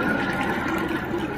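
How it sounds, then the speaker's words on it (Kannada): Dirty water draining out of a Hotstar washing machine, a steady rushing, gurgling flow that holds an even level throughout with no voices. "ಫುಲ್ ಕೊಳೆ ನೀರು ಆಚೆ ಹೋಗ್ತಾ ಇದೆ"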